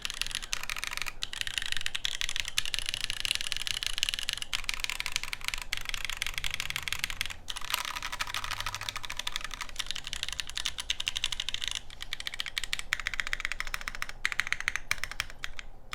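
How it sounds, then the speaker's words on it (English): Steady, fast clacking of a custom mechanical keyboard with a stainless steel top and brass bottom being typed on, close up and continuous, with no voices. "it does sound like a very unnecessarily heavily designed keyboard"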